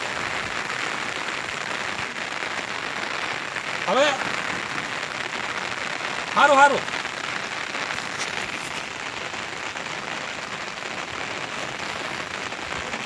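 Steady rain patters down outdoors, a soft continuous hiss, while a person speaks briefly over it twice.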